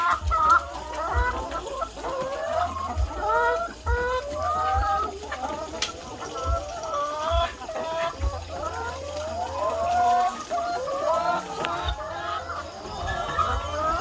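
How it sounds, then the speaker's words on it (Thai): Hens in a chicken farm coop cluck and murmur continuously in overlapping bursts, close by, with a steady busy rhythm and no talking. "เวลามีคนเข้ามา แม่ไก่ก็จะส่งเสียงนะคะ"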